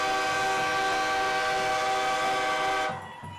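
A loud, sustained stadium horn at a high school football game sounds a long, steady train-like chord for nearly three seconds, then cuts off sharply, leaving faint crowd noise.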